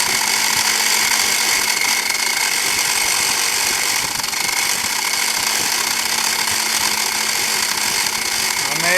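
A CNC-converted mini mill cuts a part with a loud, continuous buzzing whine and a steady tonal hum, its chattering cut texture holding evenly from start to finish with no voices.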